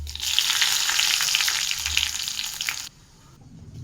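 Chilies and mustard seeds crackle and sizzle in hot oil for a dal and ash gourd curry tempering. The loud, close sputtering pops continue for about three seconds before dropping off abruptly, with no voices.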